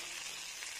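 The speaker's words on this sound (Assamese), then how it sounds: "পানী দি এনেদৰে অলপমান ভাজি ল'ম" Chopped tomatoes frying in a pan with a splash of water, giving a steady, close, hissing sizzle that stays even and unbroken for under a second with no talk.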